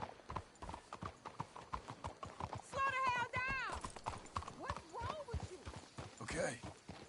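Horse hooves clip-clop in a steady walking rhythm in Red Dead Redemption 2, with a horse whinnying partway through and characters' voices talking over the hoofbeats.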